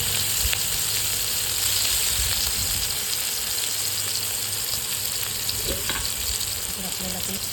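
Green chili and garlic paste sizzles loudly in hot oil with cumin seeds for a cabbage bhaji, a dense continuous crackle close by with a few utensil knocks near the end.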